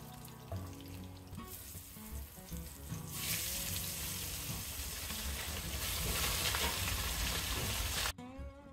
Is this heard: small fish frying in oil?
yes